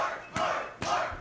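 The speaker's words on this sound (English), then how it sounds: "That's right, the crowd chant, let's go" Crowd at a lucha libre championship match in Puerto Rico chanting "let's go" in two loud, rhythmic shouted bursts over steady arena roar.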